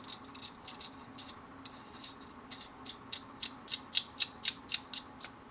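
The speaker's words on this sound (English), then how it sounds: "Put the barrel back in, just send it through the barrel hole, wiggle it a little bit, pull it back." Parts of a Taurus G3 pistol's barrel and barrel nut click together during reassembly. A close series of sharp, rhythmic ratcheting clicks grows louder and more regular toward the end over a quiet background.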